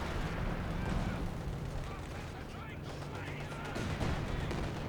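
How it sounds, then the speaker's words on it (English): Artillery fire pounds in the Company of Heroes 2 game battle on the Lienne Forest map, a dense rumbling barrage of blasts and gunfire beneath a voice talking. "Middle is now being hit by artillery."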